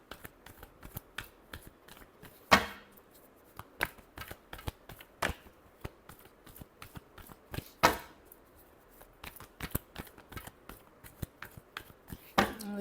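Tarot cards being shuffled, a run of crisp riffling flutters and soft slaps repeating in an uneven rhythm, with a few sharper bursts standing out; close and fairly quiet, with no talking.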